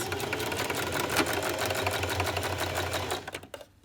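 A nearby sewing machine runs in reverse to backstitch a baby sleeper cuff, giving a loud, continuous whirring stitch that stops abruptly near the end.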